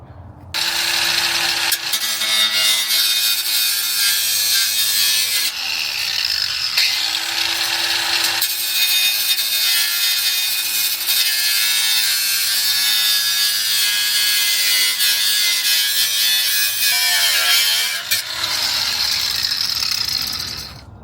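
A battery-powered cutting tool with a fresh blade slices through a Lexus fender liner in loud, continuous, raspy bursts, stopping briefly twice before the cutting resumes.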